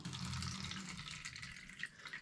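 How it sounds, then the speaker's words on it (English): Water is tipped out of a small plant propagation container, a soft, steady trickle and splash, close but quiet, with no one talking. "I'm gonna try to pour the water out."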